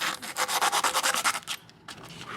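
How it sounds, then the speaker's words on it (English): Rhythmic back-and-forth rubbing of 180-grit sandpaper over curb rash on a car wheel, about a dozen quick close strokes that stop briefly, then a faint scrape resumes. "we're gonna go start with the 180 and use that to start sanding down the scratch marks here"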